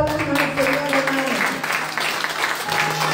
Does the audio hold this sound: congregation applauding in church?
yes